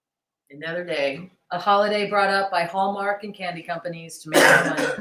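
A single throat-clearing cough bursts out near the end, close and loud, just after a person talks in a room.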